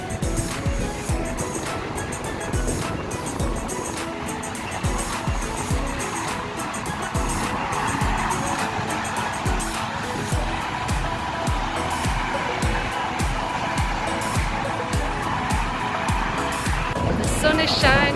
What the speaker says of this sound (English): The traffic dashing under me and this bridge is like shaking like that.